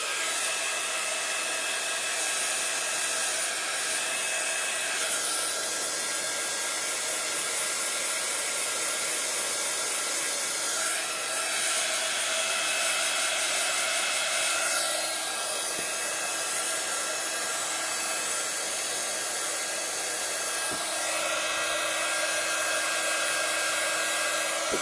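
Hair dryer blowing steadily close by to dry wet paint spots, a continuous loud whirring rush with slight shifts in pitch as it moves, running alone without any talk.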